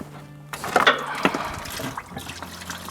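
Coolant draining from a pipe on a Toyota 2UZ-FE V8 engine, splashing onto the sway bar. A steady pouring trickle and splatter comes close up over a low hum, with a few sharper drips.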